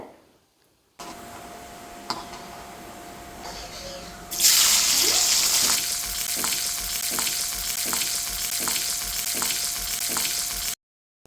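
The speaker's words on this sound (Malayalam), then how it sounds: "ആ നെയ്യിലേക്ക് തന്നെ നമ്മൾ കുറച്ച് കിസ്മിസും അതുപോലെ അണ്ടിപ്പരിപ്പും വറുത്ത് കോരുന്നുണ്ട്" Raisins and cashews fry in ghee: after a soft crackle, a strong sizzling fry bursts in and continues steadily, with a faint tonal hum and light scraping ticks underneath.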